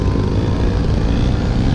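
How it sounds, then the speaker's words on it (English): Loud, constant engine and propeller drone from radio-controlled 3D aerobatic airplanes made by Extreme Flight flying overhead at a 2019 event, a dense continuous buzz with no pauses and no speech. "every plane up here now in the air is made by a company called Extreme Flight"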